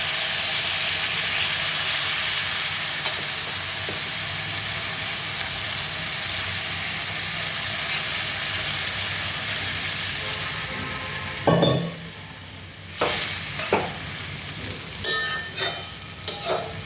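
Steady loud sizzle of cauliflower curry masala frying in a pan, then around the two-thirds mark water is poured in, and the sound turns to bursts of hissing, bubbling and utensil clinks, close by.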